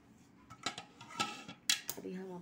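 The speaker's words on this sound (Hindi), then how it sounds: "अभी हम अपना चम्मच भी दिखा देते हैं चला के।" A metal spoon knocks and scrapes in a kadhai holding chicken karahi, making several sharp, close clinks at irregular intervals with some faint background sound.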